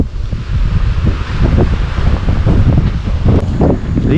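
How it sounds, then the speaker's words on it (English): Strong wind at a tropical rainforest lookout as a storm builds, heavy gusts roaring and buffeting close to the microphone without letup. "It's pretty windy out there."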